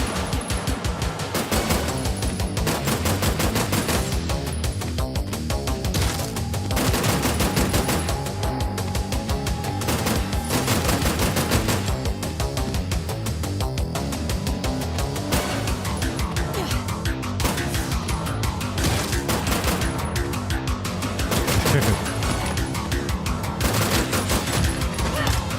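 Gunfire in the Terminator 2D: No Fate video game, a dense, continuous run of rapid shots and bursts layered over loud game music and effects, steady throughout with no pauses.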